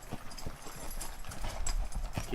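Hooves clip-clop on the ground during a ranch riding lesson, a faint, uneven series of thuds from a horse moving at close range with no voices over it.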